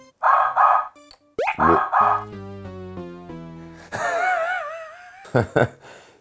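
A person's voice imitates a dog barking in a handful of short, loud, breathy bursts, with brief musical tones and a warbling sound between them.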